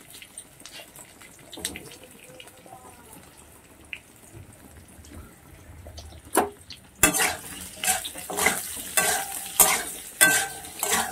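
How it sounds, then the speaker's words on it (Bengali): Onion and boiled potato are stirred and fried in a pan. A few seconds of near quiet come first, then loud, rhythmic scraping strokes sound over a bright sizzling hiss, close by. "আলুটাকেও ভেজে নেবো পেঁয়াজের সঙ্গে"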